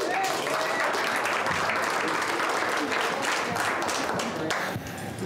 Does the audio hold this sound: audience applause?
yes